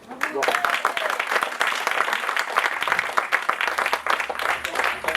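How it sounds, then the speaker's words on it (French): Dense, steady applause from a live concert audience after a song is introduced, sustained clapping filling the whole stretch with a voice talking over it. "doucement sur les applaudissements"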